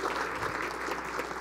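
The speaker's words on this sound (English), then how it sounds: "let's have a warm applause to the panelists" Warm applause from a conference audience for a panel discussion on transformation, a soft, even patter of many hands heard from a distance at low level for a brief moment.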